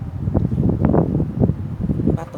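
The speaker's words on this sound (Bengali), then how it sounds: "বাতাস, পাতাগুলো লড়তেছে, তার মানে দেখছেন কত বাতাস।" Strong wind blows through garden plants and leaves in winter. It makes a steady, close rumble that buffets the microphone, with faint rustling underneath.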